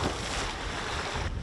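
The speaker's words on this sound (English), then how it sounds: "You hear the lapping of the waves. You hear the wind rustling." Waves lap on a Scottish island shore in the wind, heard as a brief, steady rushing wash of broadband noise with no voices.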